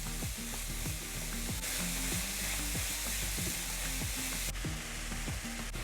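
Cauliflower sizzles steadily in a hot frying pan as it is stirred in with a spice paste, the utensil scraping and knocking the pan in a repeated rhythm close up, no talking.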